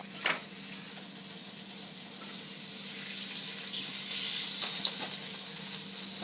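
Rabbit pieces browning in oil and butter, a steady hissing sizzle that swells slightly louder as it goes, with faint crackles and no voices.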